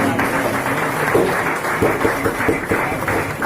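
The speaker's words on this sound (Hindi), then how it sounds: "जोरदार तालियां होनी चाहिए इसके लिए" Applause for a student at a school gathering in Pilani, a roomful of hands clapping together in a fairly steady, slightly muffled wash with some distinct claps poking through.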